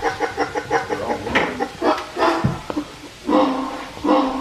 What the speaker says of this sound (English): It's just dog barking.